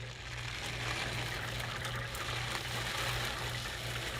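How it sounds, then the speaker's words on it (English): Dry rice grains poured into a plastic windscreen washer reservoir from an Aston Martin, a steady rushing hiss of grains running continuously for several seconds at moderate, close level. "We're basically going to pour the rice in"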